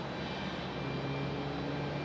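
Jet airliner departing Raleigh Durham International Airport in stormy weather, a steady broad engine roar heard at a distance with no voices.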